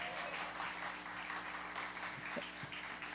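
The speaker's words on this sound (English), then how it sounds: "how about a round of applause for Misha Brown?" An opening-night audience applauds Misha Brown with steady, dense clapping that fills the room at moderate distance and holds evenly without letting up.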